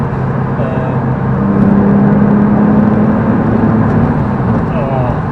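Porsche 911 engine droning steadily while driving, a loud continuous hum with a rising tonal whine midway, heard from inside the car alongside speech.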